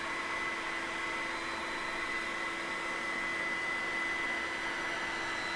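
A dryer blows steadily over wet carpet, a constant close whooshing hum with a faint tonal whine that holds without change.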